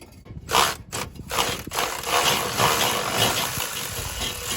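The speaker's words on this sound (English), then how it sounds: "I'm gonna have to get the actual lower starter bolt out" A ratchet wrench works loose the lower starter bolt on a 1971 Dodge Charger Super Bee, with a rapid clicking ratchet run of metallic pawl ticks, heard up close with light scraping under the car.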